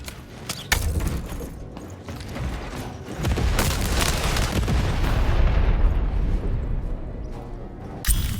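Heavy booming cannon fire and rumbling blasts from the video game Lost in Random, with loud sustained low-end roar across the scene and sharp bursts at the start and end.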